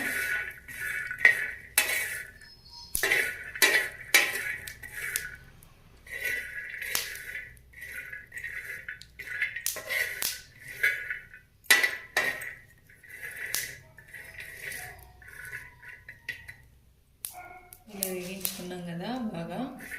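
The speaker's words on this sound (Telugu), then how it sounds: "బాగా వేయించుకోవాలన్నమాట చూడండి ఇలా బాగా వేయించుకోవాలన్నమాట" Ingredients are fried and stirred in a pan for festival sweet balls, heard as repeated metallic clanks and scrapes of a utensil against the pan in uneven bursts, with brief speech near the end.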